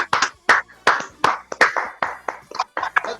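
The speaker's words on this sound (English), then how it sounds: "A big round of applause." A round of applause at a live talk event, heard as a few distinct, separated hand claps in an uneven rhythm, close and fairly sharp, with no voices over them.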